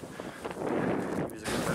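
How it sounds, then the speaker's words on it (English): Wind gusting across an exposed mountain summit, a steady roaring rumble buffeting the microphone, swelling louder near the end and continuing without any speech. "It's really windy"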